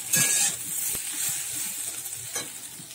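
Potatoes fry in a pan in a home kitchen, a steady bright sizzle with occasional stirring scrapes and a faint clink, close and continuous, with no talking.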